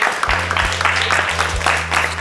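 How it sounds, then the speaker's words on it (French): Audience applause in a hall, a steady wash of clapping with a low thumping hum underneath. "on peut l'applaudir encore une fois"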